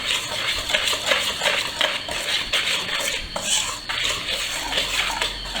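Dry fried chicken coating is mixed in a bowl, giving busy, continuous scraping and clinking against the bowl's sides, loud and close, with no speech.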